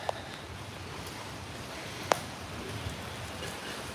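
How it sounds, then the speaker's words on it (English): Rain falling steadily outdoors at night in Phnom Penh, Cambodia, a soft continuous hiss with a few brief isolated taps and clicks, and no voices. "Rain's picking up."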